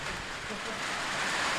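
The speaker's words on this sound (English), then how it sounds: "that is horrible rain" Heavy rain pours onto an outdoor football pitch during a men's Capital 3 match between Petone U20s and Victoria University AFC, making a loud, dense, steady hiss that fills the whole moment.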